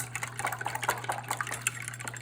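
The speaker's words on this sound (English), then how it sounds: "Pour the wet ingredients into the dry." Wet ingredients for mini chocolate chip muffins pour into the dry mix, a soft, close liquid glugging and splattering for a couple of seconds over a faint steady hum.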